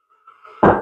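A single sharp metal tap knocks loose a part on a Kawasaki FH680D engine from a Massey 1655 mower, a close, loud knock after faint quiet handling.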